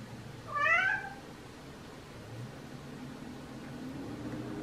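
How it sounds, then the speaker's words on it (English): Indoor house cat meowing for attention and treats, one clear drawn-out meow early on, then a quiet room with low hum and faint background noise. "kitty demanding I shouldn't talk to him because now he wants to be spoiled"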